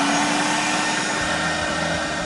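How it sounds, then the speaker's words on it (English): Vacuum motors of a Mytee Lite II carpet extractor running, a loud, steady high-pitched whine and airy roar with a faint low hum, continuous throughout. "Now let's go ahead and turn our vacuum motors on."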